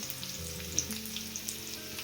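Curry leaves frying in hot oil for a Kerala moru curry, a soft, steady sizzle with faint crackles and light pops, fairly quiet and heard alone without voices.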